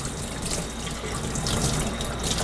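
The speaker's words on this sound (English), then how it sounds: "we'll get some like lukewarm water on here, and we'll just kind of rinse her off a little bit" Lukewarm tap water runs steadily from a faucet to rinse a ball python, a continuous close gushing flow with no voices.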